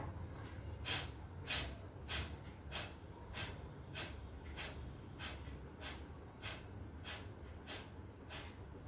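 Kapalbhati yoga breathing: about fourteen sharp, forceful nasal exhalations in a steady rhythm, roughly one every half second to second, quiet and close, with no talking.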